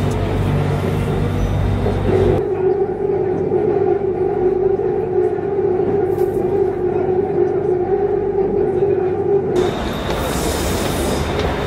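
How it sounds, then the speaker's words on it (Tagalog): Constant loud rumble and hum inside a moving train carriage in Bangkok, Thailand, with a steady whine over the wheel noise and a brighter rattle near the end. "So, nasa tren na kami."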